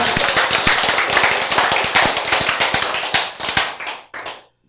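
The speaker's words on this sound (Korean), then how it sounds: "자, 박수." An audience claps in a lecture hall, a dense burst of hand claps that thins out and stops after about four seconds, with a few last scattered claps.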